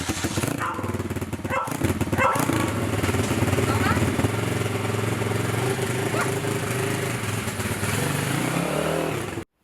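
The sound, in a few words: 140cc pit bike with YF engine starting and revving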